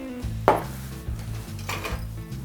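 Sugar and melted butter for a buttermilk pie being mixed in a bowl, with a sharp utensil knock followed by steady scraping and stirring strokes, close and moderately loud.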